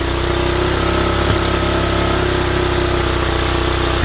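A four-wheeler ATV engine idles steadily while warming up, a loud, even mechanical drone close by with no talking.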